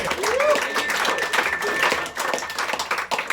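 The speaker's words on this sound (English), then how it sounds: "Clap it up, come on," At a roast comedy event, a crowd claps and cheers for the round, a lively mix of applause with whoops and voices mixed in, rising and dipping unevenly.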